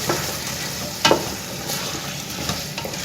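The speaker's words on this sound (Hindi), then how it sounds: "देखिए अब इसको मिक्स कर देंगे।" Fried chicken and potato pieces with fresh coriander being stirred in a hot pan, giving a steady close sizzle, a sharp scrape of the spoon partway through and lighter stirring afterward.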